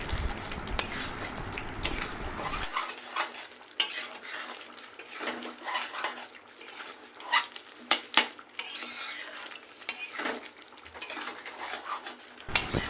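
Chicken pieces and spices stirred in a pan for a desi chicken curry, a metal utensil scraping and clinking against the pan over a soft sizzle, close and continuous, with a low hum at the start.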